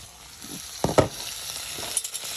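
Pangas fish paturi fries in a little oil in a pan, giving a soft continuous sizzle close by, with a few louder stirring or handling clatters, and no talk.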